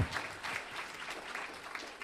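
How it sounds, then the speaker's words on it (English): Guests at an engagement party applauding the venue staff, a warm burst of many hands clapping that stays full for the whole moment, indoors and close, with no speech over it. "Round of applause to the staff here at Stonebridge."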